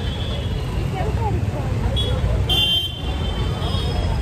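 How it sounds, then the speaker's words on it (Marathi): Heavy weekend street traffic in Pune near a temple: a continuous low roar of engines with a short horn toot midway, with a faint murmur of voices underneath. "बघू शकता ट्रॅफिक खूपच आहे।"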